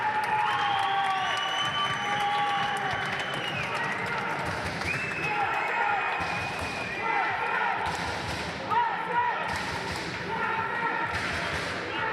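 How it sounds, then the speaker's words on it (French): Crowd applauding and cheering an RSC Wasquehal N2 basketball team in an indoor gym, with sustained clapping, whistles and shouts mixed with ball bounces, thuds and voices talking. "Allez les gars, vous avez quand même mérité des applaudissements."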